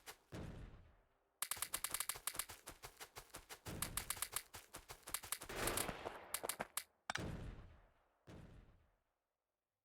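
Guns fire in the factory-building video game Factorio, with long runs of rapid, evenly spaced shots in close bursts, broken by short pauses and a few final volleys before silence.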